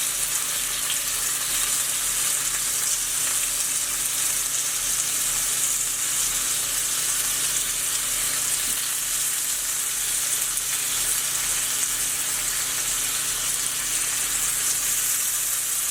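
Tofu slices frying in a hot pan, a steady, dense sizzle that runs unbroken and fairly loud throughout, with no talking over it.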